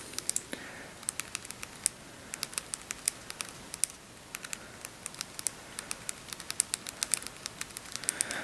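Quick irregular clicks of typing on a BlackBerry Curve 3G 9330 phone keyboard, close and crisp, continuing throughout in a quiet room.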